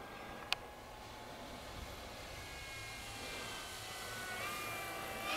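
A Giant Draco Wilga 2.0m RC model plane on its maiden flight drones steadily in the air, a continuous engine hum that stays fairly even and distant throughout, with a brief click near the start.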